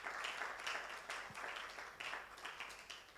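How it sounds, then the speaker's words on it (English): Applause at an entrepreneurs' network workshop, heard as clapping with a pulsing, roughly rhythmic swell that rises and falls every half second or so. "A round of applause once again for our CRO."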